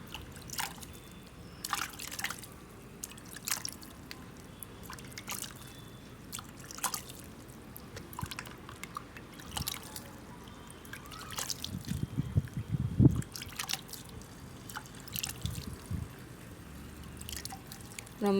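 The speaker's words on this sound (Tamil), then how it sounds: "அதுக்கடுத்தது தண்ணி ஊற்றிடலாம்." Water trickles and drips onto soil in a small pot planted with a mango seed, with scattered wet splashes and patters over a low, steady background.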